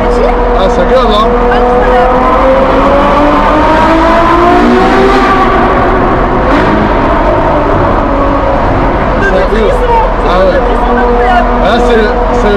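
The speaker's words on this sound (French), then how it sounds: "Là c'est le V12 Ferrari poussé à son maximum" A Ferrari V12 of about 800 hp is pushed to its maximum, a loud close wailing howl climbing and holding high revs throughout, with people talking and exclaiming over it.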